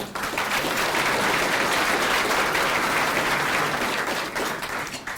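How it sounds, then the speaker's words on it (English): A luncheon crowd at a chamber of commerce event in Thunder Bay gives sustained applause for the hotel's buffet, a dense, loud, even roar of many hands clapping that tapers slightly near the end. "a round of applause for them"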